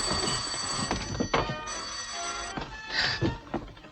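An old-fashioned telephone bell rings in repeated bursts in a vintage comedy film scene, fairly clear with brief gaps between rings and no talking.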